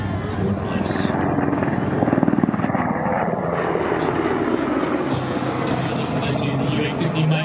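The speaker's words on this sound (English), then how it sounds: "The UX-16 Mike model Black Hawk helicopter." A UH-60M Black Hawk helicopter flies over an airshow in El Paso, its rotor and engine roaring steadily and loudly across the whole stretch amid crowd ambience, with a public-address voice talking over it.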